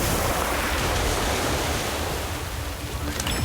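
An orb of water spell from the Harry Potter Magic Awakened mobile game gives a dense, steady rushing wash like surging water, loud and unbroken for a few seconds.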